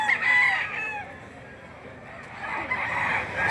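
A green-legged gamecock rooster crows loudly nearby at a poultry sale, one drawn-out call followed by a second rising crow, with faint background noise.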